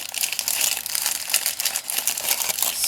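Plastic bags crinkling and rustling close by, a continuous run of crisp crackles and crunches with uneven bursts, with no talking.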